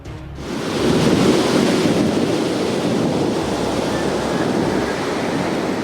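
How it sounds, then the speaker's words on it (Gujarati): Rough sea waves crash on the Saurashtra coast near Saiyad Rajpara village at Una during high tide, making a loud, steady roar of surf mixed with gusting wind noise and no break. "જુઓ આ દ્રશ્યો, દરિયાના મોજા આગળ વધી રહ્યા છે।"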